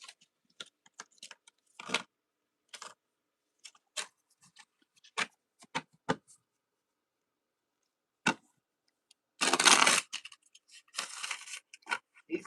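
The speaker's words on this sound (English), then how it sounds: "These cards is hard to shuffle." Sharp scattered clicks and snaps of tarot cards being handled, then a burst of riffling and flicking, sporadic and close in an otherwise quiet room.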